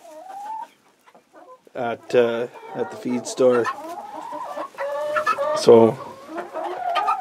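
Chickens cluck loudly and repeatedly inside a barn during December chores, in bursts of close, choppy squawks, while someone talks briefly at the start.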